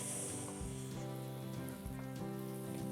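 Butter sizzling in a pan while cooking pancakes, a steady, soft crackling hiss under faint background music.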